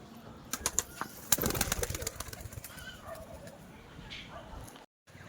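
Murshidabad-line pigeons give off soft cooing and rustling close by, with bursts of wing flapping and scuffling early on that settle into quieter murmurs. Someone talks over them.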